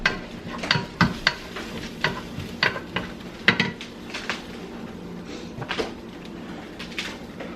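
Onions and garlic sizzling in a pan while being stirred, with a soft steady frying hiss under irregular sharp clinks and scrapes of a utensil against the pan, close by with no talking.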